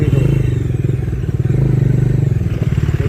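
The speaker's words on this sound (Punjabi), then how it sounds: "ਇਧਰੋਂ ਮੋਟਰਸਾਈਕਲ ਆ ਗਏ ਬਾਈ ਦੇਖੋ" Motorcycles on a road, a loud, close engine drone with a rapid pulsing throb that holds steady throughout, with no talking.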